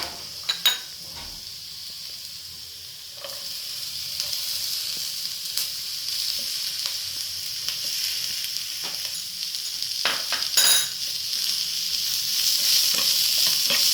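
Capsicum sautéing with softened onion in a pan, stirred repeatedly: a steady sizzle with intermittent scraping and clinking of the spoon against the pan, close and alone.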